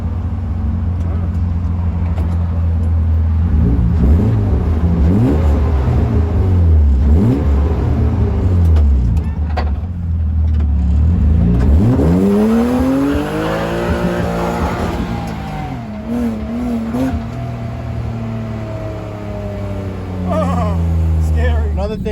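A BMW E36 drift car engine revs hard in repeated rising and falling sweeps, loud and close, with voices talking over parts of it.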